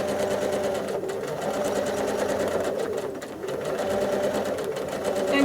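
Sewing machine stitching a quilt in free motion quilting, a fast steady whirring hum that dips briefly and then speeds up again, close by; a person talks quietly over it.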